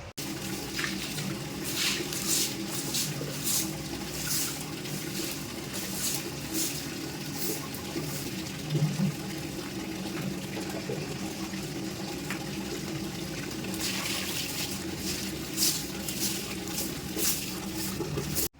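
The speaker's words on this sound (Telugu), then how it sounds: "ఇంకా వాటర్ అయితే చల్లేస్తున్నా" Water is sprinkled by hand across a front yard at dawn, a continuous close splashing and pattering that runs steadily throughout with no talk.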